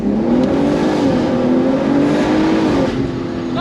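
An all-wheel-drive BMW G80 M3 pulls hard from slow speed, its engine note rising steadily and loud from inside the car for several seconds, with no talk over it.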